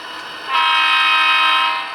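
A model SD40 locomotive horn sounds in one loud, sustained chord that swells in after a quieter start and holds steady before easing off, with no voices.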